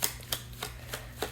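Tarot or oracle cards are shuffled by hand in a steady rhythm, with about five crisp riffling bursts roughly every third of a second, soft and close.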